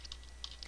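Keys tap on a computer keyboard while an IP address is entered, a handful of quick, faint clicks in an uneven rhythm over a low steady hum.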